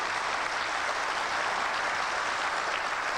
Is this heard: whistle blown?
no